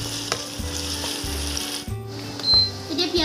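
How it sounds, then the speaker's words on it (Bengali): Onions sizzle in hot oil in a pan, a steady crackling fry with soft periodic stirring thumps, close and continuous. "এতিয়া পিঁয়াজখিনি অলপ ভাজি লওঁ ধুনীয়াকৈ"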